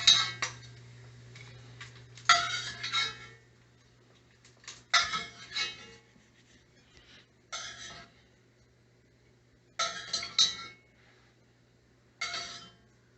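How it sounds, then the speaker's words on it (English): A slotted spoon scrapes and clinks against a pan and plate while lifting out bacon for beef bourguignon, in about six short separate bursts with quiet gaps between them. "I'm going to take it out with a slotted spoon and put it on a plate"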